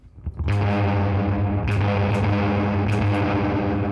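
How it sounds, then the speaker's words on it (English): A distorted electric guitar strikes a sustained chord that rings out with heavy reverb, with a few picked accents layered on as it washes on. "That's way too much reverb."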